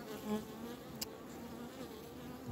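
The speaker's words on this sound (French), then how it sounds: "On va enlever un peu les abeilles." Honeybees buzz steadily around an open hive during a spring inspection, a dense continuous drone of many wings close by with a brief sharper tick partway through.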